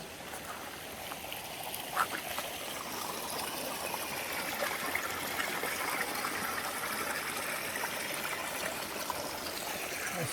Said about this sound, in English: happy to see this stream.